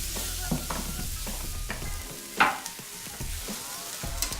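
Eggplant slices frying in a pan, giving a steady close sizzle broken by scattered clicks and one sharp louder clatter midway, with no talking.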